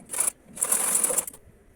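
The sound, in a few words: sewing machine stitching the neckline of a blouse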